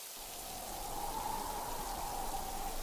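Steady cartoon rain falling as a dense, continuous patter and hiss, holding an even level throughout with no voices.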